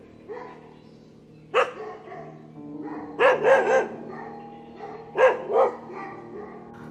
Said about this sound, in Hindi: कुत्तों के भौंकने की आवाज़ आ रही थी